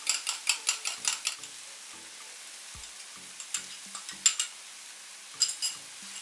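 Beaten egg mixed with sauce, salt and black pepper is stirred into chicken and vegetables frying in a pan, giving a run of quick scraping, clicking spatula strokes over a soft sizzle, with a few short pauses.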